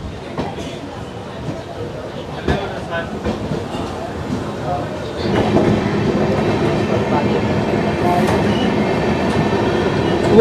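Amrit Bharat Express train rolling along rails, a steady rumbling clatter with occasional wheel knocks that grows louder and fuller halfway through, heard from on board with faint voices mixed in.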